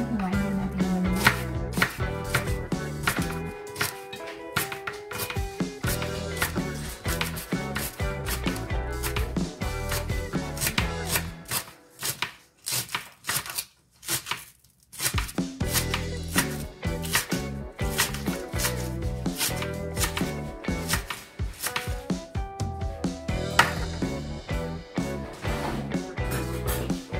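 A knife chops spring onion on a cutting board in a rapid, steady rhythm of close, crisp strikes, with a brief slower pause partway through before the chopping picks up again.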